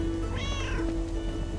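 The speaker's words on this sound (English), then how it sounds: "Oh, kitty on the roof." A cat meows once on a rooftop in a video game, a clear rising and falling cry over steady low background game ambience.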